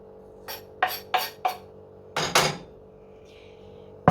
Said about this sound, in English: and keep chopping up